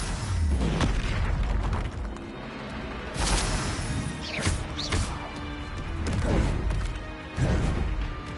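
An Incendio fire spell in Hogwarts Legacy bursts out in crashing, booming blasts amid continuous combat noise, with several loud hits spread across the stretch.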